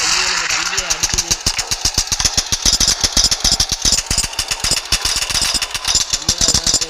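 The spider train Charles from the game Choo Choo Charles approaches with a rapid, pounding mechanical chugging that beats in a fast, loud rhythm throughout, while players talk over it.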